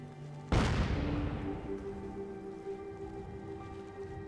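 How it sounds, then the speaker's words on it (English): Modded artillery grenade detonating in Fallout 4, a single loud, close boom with a long crackling, debris-like decay that trails off for several seconds, no talking. "And this is the new artillery grenade."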